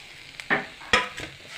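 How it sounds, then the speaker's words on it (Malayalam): Grated coconut dropped into a hot pan for a Kerala chammanthi podi, with a few brief sizzling bursts and stirring scrapes close by, fairly quiet and with no talk. "ഇനി തേങ്ങ ഇട്ട് കൊടുക്കാം."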